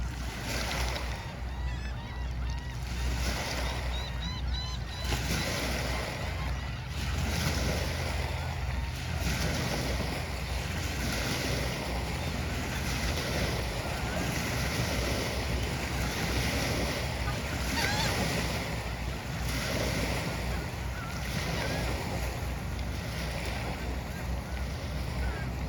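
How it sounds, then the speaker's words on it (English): Ocean waves roll and break on a shore at sunrise on a calm, nearly windless morning, a continuous broad wash of surf with rhythmic swells rising and falling, moderately loud and steady throughout. "I didn't want to interrupt the waves."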